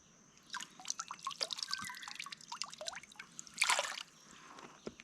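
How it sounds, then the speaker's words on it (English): Fresh water flowing in a jungle stream near an estuary, with close, irregular drips, trickles and splashes, busier bursts midway and near the end, and no talk. "This water is flowing."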